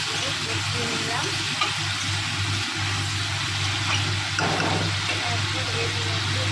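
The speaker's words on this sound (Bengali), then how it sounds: "জল দিয়ে একটুখানি ভালো করে কষিয়ে নিলাম।" Bengali spice paste with a splash of water sautéing in a pan for dhokar dalna, giving a steady, close, bubbling sizzle with occasional stirring and a low background hum.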